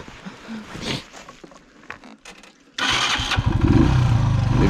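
A motorcycle engine cranks with faint clicks and rattles, then catches and starts, settling into a loud, steady running rumble on a cold, icy mountain road.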